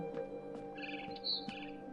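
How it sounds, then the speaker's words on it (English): Barn swallow chirping outside a window in the video game What Remains of Edith Finch, with a few soft, brief chirps over a steady game ambience at moderate distance. "Then I heard chirping outside my window."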